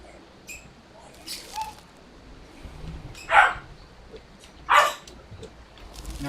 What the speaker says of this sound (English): my dog keeps like wanting to jump up in her lap, and they're playing right now